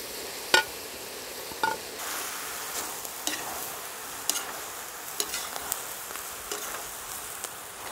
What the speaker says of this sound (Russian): Зеленью обжариваем буквально одну минуту, даже 30 секунд.